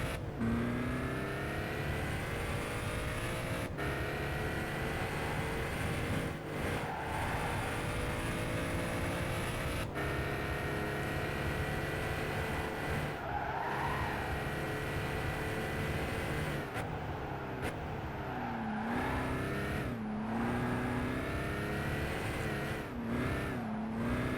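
A Gran Turismo 5 race car, a supercar lapping a track through the 130R corner, drones loud and continuous for the whole stretch, its engine note rising and falling as the throttle is eased and reapplied.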